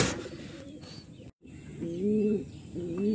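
Pigeons coo nearby in soft, repeated throaty bursts, with a short silent break in between.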